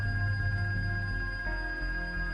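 A steady electronic cockpit warning tone sounds inside an aircraft during a landing approach in Microsoft Flight Simulator 2024, a continuous high beeping held over a low engine hum.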